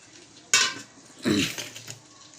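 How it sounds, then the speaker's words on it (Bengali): Whole tomato and pre-fried potatoes go into a pan with spices, giving two short clattering clinks of utensil on cookware with a faint sizzle underneath, close and fairly quiet. "এবারে আমি দিয়ে দেবো একটা গোটা টমেটো আর আগের থেকে যে আলুগুলো ভেজে রেখেছিলাম সেই আলুগুলোও দিয়ে দেবো"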